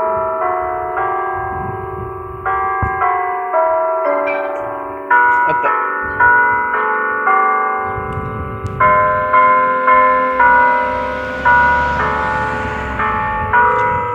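Electronic imitation Westminster chime clock bells ring out at noon, a loud sequence of evenly paced struck tones, each decaying before the next, with some faint background talk.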